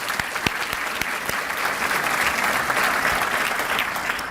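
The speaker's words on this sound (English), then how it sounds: "Let's give our presidents a round of applause." An audience applauds college presidents at a City of Suffolk State of the City event, a dense, steady wash of clapping from a large crowd that holds at full strength for the whole stretch.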